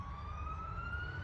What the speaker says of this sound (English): I'll just wait for this ambulance to go past. Fire truck, sorry.